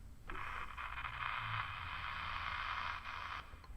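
For the intro of a UK garage track, the sound of an old radio being tuned comes through as a band of hissy, wavering static with faint shifting tones for about three seconds.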